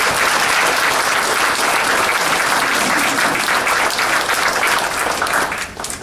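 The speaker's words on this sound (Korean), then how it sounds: "청춘합창단을 위해서 먼저 박수를 한번 좀 부탁드립니다" Audience applause greeting a youth choir and its director at a breakfast lecture forum, a loud, dense, sustained wash of many hands clapping that holds steady and then tapers slightly at the end.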